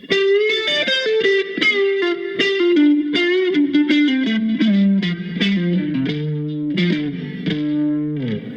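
A distorted electric guitar plays a quick lick from a song, notes sliding and stepping downward with a bouncy feel, loud and saturated.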